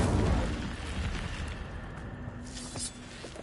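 An Incendio fire spell cast in a Harry Potter video game bursts out with a loud whooshing blast up front, then a fiery crackling rumble that tails off with a few sharp pops.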